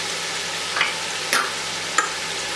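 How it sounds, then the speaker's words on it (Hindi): Soft, steady sizzling of onion and ginger-garlic paste frying in a pan over high flame, with three brief scraping stirs spaced across the short stretch. "फ्लेम हाई पर रखें और इसको इतना फ्राई कर लें"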